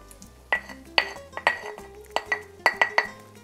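Picadillo being stirred and broken up in a pan, a metal utensil clinking and scraping against the cookware in a quick, irregular series of close, bright knocks.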